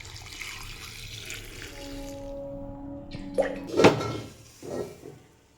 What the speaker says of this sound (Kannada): ಇದಕ್ಕೆ ಸ್ವಲ್ಪ ನೀರು ಹಾಕ್ಕೊಂಡ್ಬಿಡೋಣ.